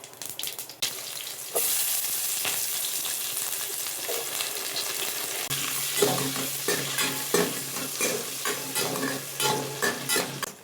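Mustard seeds and cumin crackle and sizzle in hot oil in a home kitchen, a steady close hiss with sharp popping bursts and some stirring clatter, with no talk.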